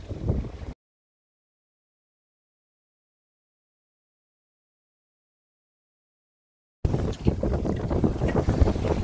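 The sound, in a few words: sailboat under full mainsail and genoa, light wind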